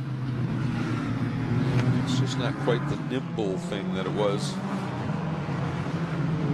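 A V8 GT4 race car roars at Mid-Ohio Sports Car Course, its engine a steady, throaty drone running beneath continuous commentary.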